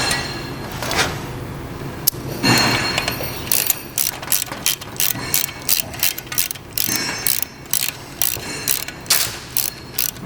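Rapid clicking bursts of a ratchet wrench tightening the nut on a Power Trim edger blade, close and loud, in short regular strokes.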